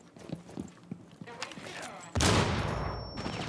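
Gunfire in Rainbow Six Siege, scattered shots followed by a sudden loud, sustained burst that lingers and echoes, with a thin ringing tone riding over it.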